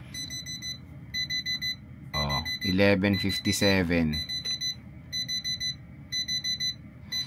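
A cheap digital alarm clock bought for about 300 pesos goes off with bursts of rapid electronic beeps repeating in steady groups, close and clear, while a person talks over part of the alarm.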